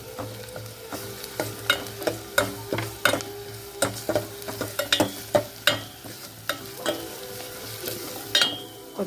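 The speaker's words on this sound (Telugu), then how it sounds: "కొద్దిగా పచ్చి వాసన పోయే వరకు వేయించుకుంటే సరిపోతుంది." Ginger-garlic paste frying in a pan for a Telugu-style egg and drumstick curry, sizzling steadily while a spatula scrapes and stirs in repeated sharp clacks, close and clear with no talking.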